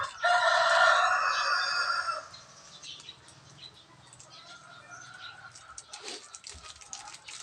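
Chickens crowing loudly and close for the first two seconds, then quieter clucking and stirring from a flock of hens being treated for coryza, with some wing flapping near the end.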